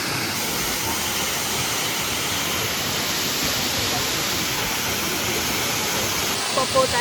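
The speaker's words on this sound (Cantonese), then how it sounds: "瀑布仔幾大聲，" Minoo Falls near Osaka roars loudly and steadily, a dense unbroken rush of falling water close by, with faint voices briefly at the end.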